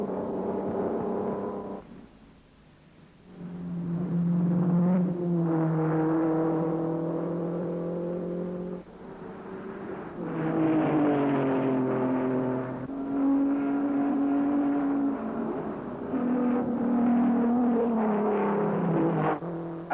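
1953 Formula 1 race cars at the Swiss Grand Prix on a wooded road circuit past a quarry, engines rising and falling in pitch as cars rush by in several loud passes, separated by brief lulls.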